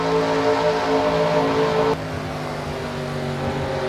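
Stock cars racing at Gateway in NASCAR Racing 2003: a steady, loud engine drone with sustained tonal whine, dropping slightly in pitch and level midway as the pack runs on continuously.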